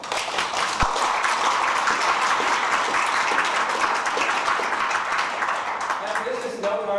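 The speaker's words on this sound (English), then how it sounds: "Please give yourself a round of applause." Sustained crowd applause at a Chinese American advocacy group gathering, dense clapping from many hands holding steady and loud for several seconds before a voice begins near the end.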